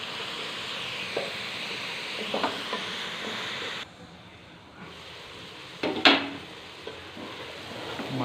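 Vegetable rice with fresh mint being stirred in a pot over heat, a hissing sizzle broken by spoon scrapes and knocks, briefly dropping quieter before a sharp clatter.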